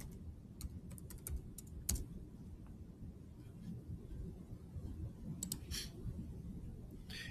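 Quick bursts of keyboard typing, clusters of light clicking keystrokes separated by short pauses, close by over a low background hum.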